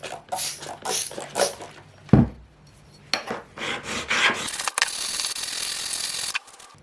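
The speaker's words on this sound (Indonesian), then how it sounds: "Sekarang akan saya ratakan lagi, dihaluskan dengan diamond plate grade" A DOLIZ BA126 electric planer blade is rubbed back and forth on a grade 400 diamond plate, giving rough rasping strokes in bursts with short pauses, close and fairly loud.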